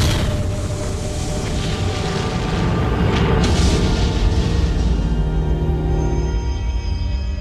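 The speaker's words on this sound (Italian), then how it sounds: "l'universo si sarebbe formato all'improvviso, da un'unica esplosione" A huge, sustained explosion effect depicting the Big Bang roars continuously, loud and dense, with a swelling burst midway before easing into a lingering rumble.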